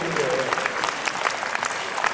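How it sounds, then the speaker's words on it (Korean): A crowd claps continuously at a community badminton tournament, a dense patter of many hands at moderate distance, with voices mixed faintly beneath. "박수 한번 치셔요."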